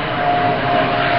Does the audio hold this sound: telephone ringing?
no